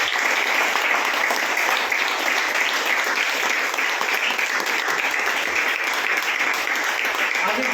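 A congregation at a Good Friday church service applauds loudly and steadily, a dense wash of clapping that holds at full strength the whole time.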